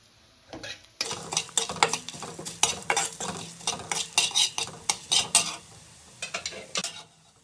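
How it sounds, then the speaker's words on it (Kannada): Garlic fries in oil in a kadai while a metal spoon stirs and scrapes it, giving a rapid series of clattering strokes over a soft sizzle, loud and close. "ಇವಾಗ ಬೆಳ್ಳುಳ್ಳಿನ ಫ್ರೈ ಮಾಡ್ಕೊತಾ ಇದ್ದೀನಿ"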